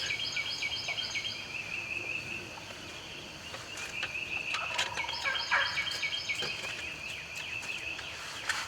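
Several wild turkeys gobble repeatedly from their roost in Tennessee, nearby and farther off, overlapping calls over quiet outdoor ambience with faint insects.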